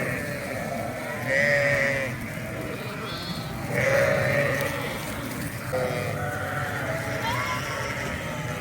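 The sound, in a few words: sheep and crossbred lambs bleating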